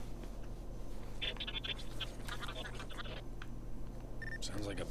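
Garbled encrypted audio message played from an audio drive attached to a satellite dish in the game inFAMOUS, a scratchy, crackling stream of distorted chirps and clicks over a steady low hum, with no clear words.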